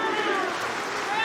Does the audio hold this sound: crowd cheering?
yes